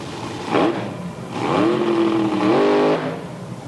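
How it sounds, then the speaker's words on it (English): AA alcohol dragsters, one Chevrolet-powered, race in a semifinal round at U.S. 30 Dragway during the 1982 AHRA Grand American Series. A short engine burst is followed by a loud, sustained roar that climbs in pitch, with no speech. "for the final pair in the semifinal round of AA alcohol dragster"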